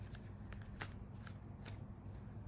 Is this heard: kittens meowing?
no